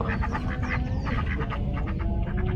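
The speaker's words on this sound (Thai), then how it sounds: "ดูเหมือนจะเสียงเป็ดนะ" Ducks quack repeatedly and loudly close by, a busy run of overlapping calls without pause.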